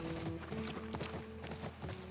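Horse hooves clip-clop at a steady, loping rhythm during riding in The Last of Us remake, moderately close under ambient game sound.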